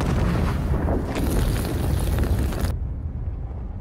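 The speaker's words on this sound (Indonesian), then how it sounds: "tepat setelah kapal itu meledak" A ship explodes in a loud, rumbling roar lasting a few seconds, a dense wall of noise that suddenly cuts off, leaving faint low rumble behind.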